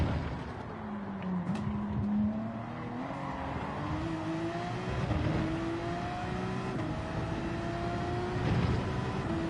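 A race car in Gran Turismo 7 running flat out on a straight, its engine note climbing steadily through the gears in a continuous loud drone with upshifts.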